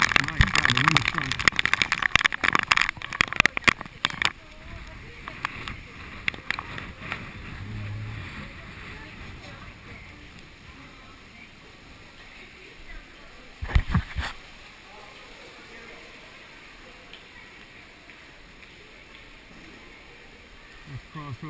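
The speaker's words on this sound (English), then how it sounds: "the wind is strong" Strong typhoon wind gusts buffet the microphone outside Nagoya Station, heavy rumbling bursts early and again midway, easing into steadier blowing, with people talking at times.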